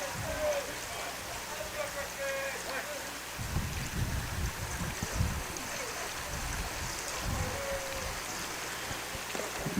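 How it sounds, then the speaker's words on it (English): Heavy rain pours steadily during a high school baseball game, a dense broadband hiss of rainfall with low rumbling gusts, while announcers talk over it throughout. "So pretty good downpour here."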